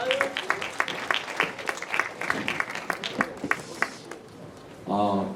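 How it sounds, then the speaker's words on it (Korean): Warm applause in a school Easter chapel service, sparse and uneven claps at first that thin out, followed by a short burst of music or singing at the end. "우리 다시 한번 뜨거운 박수로 격려해 주시면 감사하겠습니다"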